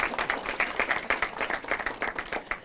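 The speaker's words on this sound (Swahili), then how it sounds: "Naomba tupigie waziri Murkomen makofi kidogo" An audience at a Kenya Prison Service officer cadet passing-out parade claps steadily, producing a dense patter of many hands applauding at moderate volume for a few seconds.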